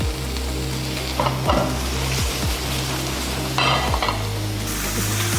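Garlic cloves sauté in hot oil in a pan for a mushroom-sauce chicken steak, a constant close sizzle broken by periodic scraping stirs with a spatula.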